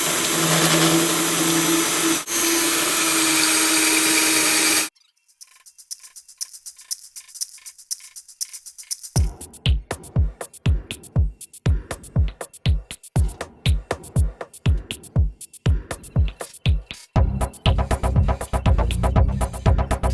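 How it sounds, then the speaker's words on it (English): Spot welds being drilled out of sheet metal with a power drill: a loud continuous whine, a pause, then rapid repeated bursts of drilling with short gaps, ending in steady grinding, no talk. "Alright, I drilled all those out."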